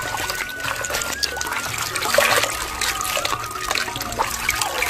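Tap water trickles slowly and steadily into a kitchen sink where spinach is being washed, a thin continuous dribble with light splatter, close by and alone without speech.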